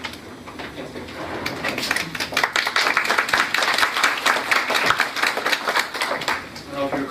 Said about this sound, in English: I don't know if you were clapping for me to come up here